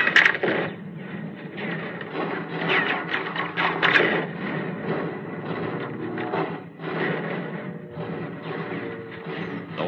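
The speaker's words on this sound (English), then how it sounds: "50 caliber machine guns blazing, sending torrents of steel ripping across the sub's deck" A radio drama effect of .50 caliber machine guns on a diving Wildcat fighter, strafing a submarine's deck, rattles in dense, continuous rapid-fire bursts with slight surges and dips throughout.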